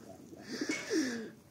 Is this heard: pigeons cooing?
yes